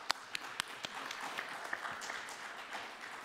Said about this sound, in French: Vous avez été applaudi aussi